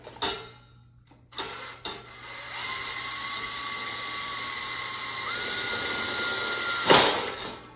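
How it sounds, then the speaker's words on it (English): A power drill bores holes through two stacked vintage silver platters: a few sharp clicks and taps, then a steady, close motor whine lasting several seconds with a small upward pitch step, ending in a brief clattering burst. "I'm gonna take my drill And I'm gonna drill a hole through both of them."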